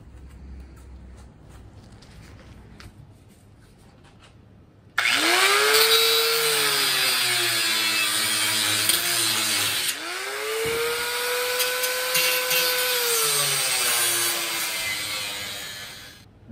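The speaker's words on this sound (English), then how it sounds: "So I'm just going to slice this here, the whiz wheel" A whiz wheel cut-off tool slices into the radiator support of a 1956 Chevy truck, a loud high-pitched grinding whine that starts abruptly, dips in pitch as it bites the metal, pauses briefly and resumes.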